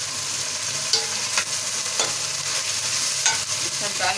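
Ground chilli, coriander and turmeric for mash dal fry in hot oil, a loud steady sizzle close by with occasional spoon strokes scraping through it.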